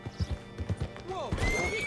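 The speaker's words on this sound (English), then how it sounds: "Hitch your horse up here." A horse's hooves clip-clop in a quick, uneven rhythm close by, several distinct strikes on hard ground, with a short whinny-like squeal and a voice speaking over the end.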